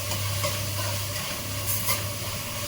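Peas and other ingredients sizzle in a hot tempering while being stirred. A steady, fairly loud frying hiss runs throughout with faint scraping, and no voices are heard.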